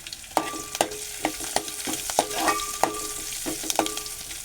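Garlic sautéing with turmeric in a pan for a capsicum and potato bhaji, a soft sizzle punctuated by regular spoon clacks and scrapes as it is stirred, with no voices.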